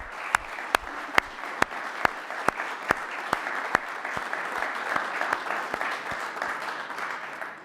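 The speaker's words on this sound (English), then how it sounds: "I think they deserve a round of applause right now." Steady round of applause from the audience at a Lompoc city council meeting, many hands clapping together at a fairly even pace for several seconds, with a few sharper close claps standing out.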